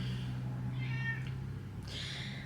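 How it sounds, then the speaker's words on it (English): A house cat meows twice behind a closed door, wanting into the room, two short, fairly faint cries separated by a pause over a low steady hum. "So if you hear meowing like that, my cat wants in the room."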